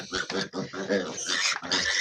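Piglets eat dry feed poured into their bowl, giving a dense stretch of rhythmic munching and snuffling with short grunts, close and continuous.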